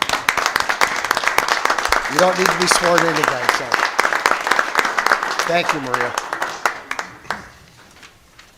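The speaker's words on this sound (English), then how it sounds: "we'll give you a big clap" Room applause at a city council meeting, brisk scattered clapping for about seven seconds, overlapping someone speaking, then thinning to a few last claps near the end.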